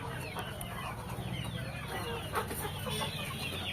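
A heavy, seven-kilogram fighting rooster of good quality clucking, with several short throaty clucks close by over a low background rumble, fairly faint overall.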